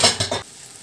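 Pork sizzles in a frying pan, with a couple of quick utensil clatters and stirring scrapes up close before it settles into a faint background hiss.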